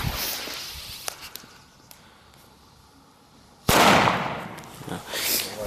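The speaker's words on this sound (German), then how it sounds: "Oldschool-Böller, D-Böller." Old-school D-Böller firecrackers bang outdoors around New Year's Eve, with a few sharp isolated cracks followed by one loud, echoing blast and a further burst of noise near the end.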